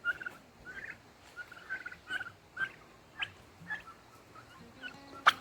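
Turkeys on a homestead gobbling, a series of short warbling calls repeating every half second or so at moderate distance, with faint rustling between them and no speech.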